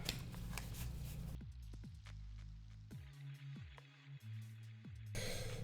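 Deck of tarot cards being shuffled and cut by hand, a series of close, crisp riffling flutters and sharp card slaps in an uneven rhythm, heard alone without talk.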